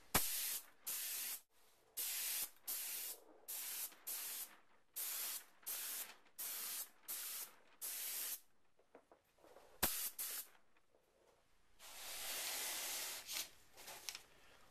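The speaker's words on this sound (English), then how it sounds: "I'm just going to shoot it real quick, just make sure I got paint coming out." A paint spray gun test-fires bursts of paint onto an Xbox 360 controller, a series of about a dozen short, loud hissing blasts in a steady rhythm, then a longer sustained spray near the end.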